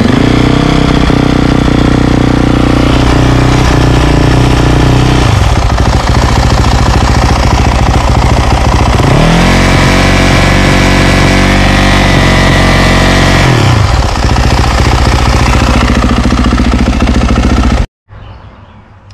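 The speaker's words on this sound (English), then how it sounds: "when the bike is cold, you would press this in and you would get a higher revving RPM." Yamaha YZ450F dirt bike engine on cold start, idling high and loud up close with rough mechanical clatter, rising in a couple of revving surges before cutting off abruptly near the end.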